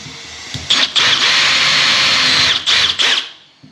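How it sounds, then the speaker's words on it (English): A power drill bores holes through wall tiles for a hot water plumbing fitting, a loud sustained high-pitched whine broken by a few short stops and restarts before it winds down. "we'll drill 2 holes there, 2 holes there, 2 holes through the tiles"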